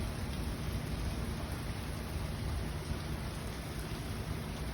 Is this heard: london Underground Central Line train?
no